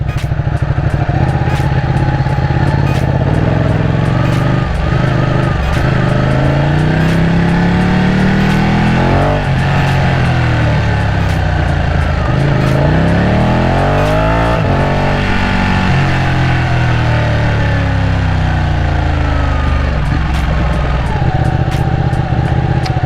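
A 899 engine drones loud and steady throughout while driving along, rising and falling in pitch through several accelerations and gear changes, with no talking over it.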